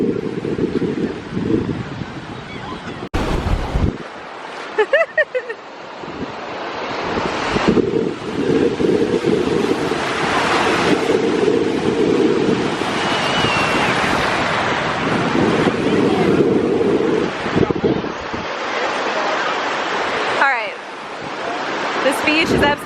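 Ocean surf at crowded Clearwater Beach, a steady broad wash of waves mixed with heavy wind buffeting on the microphone throughout, with people talking over it.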